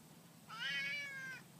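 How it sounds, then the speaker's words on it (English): A single drawn-out meow from a noisy house cat, clear and fairly close, rising and falling over about a second against quiet room hum, with no talk. "This is the noisiest cat in the world."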